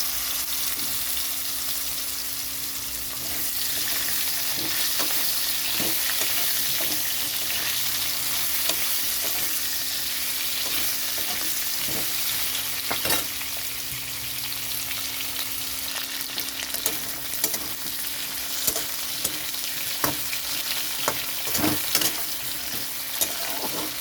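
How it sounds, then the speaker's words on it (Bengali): Cut potato and green banana pieces fry in a wok, a long, steady, close sizzle that rises after a few seconds and is broken by occasional crackles and stirring clicks, with no talking. "এখানে কেটে রাখা আলু কলা দিয়ে দিচ্ছি।"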